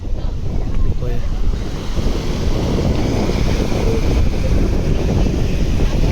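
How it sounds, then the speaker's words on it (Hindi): A strong seaside breeze at Dumas buffets the microphone in a loud, continuous rush, with the faint wash of water underneath throughout. "पवन भी इतना मस्त आ रहा है।"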